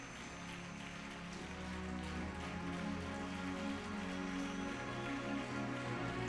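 A church congregation in Durban applauds at a Sunday service, a dense, sustained wash of many hands clapping at moderate distance, with faint tonal music or humming underneath throughout.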